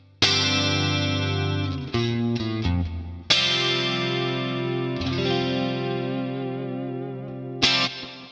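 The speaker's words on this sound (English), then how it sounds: "If I play quite lightly, and then I play really hard, you'll hear that the compressor is squashing down just to even out all those notes" PRS electric guitar with humbuckers through a Boss Katana amp with a compressor, played clean, first lightly then hard: sustained chorused notes and chords with even volume, a few quick picked notes between, close and alone.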